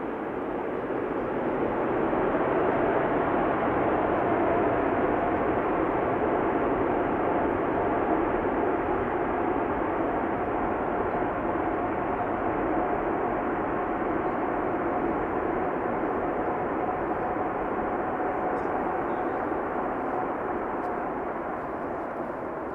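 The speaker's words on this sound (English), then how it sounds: "Now let's listen for the reversers." An airliner's thrust reversers roar on landing at Amsterdam Schiphol Airport: a loud, steady, broadband rumble that holds nearly unbroken for over twenty seconds with no one speaking.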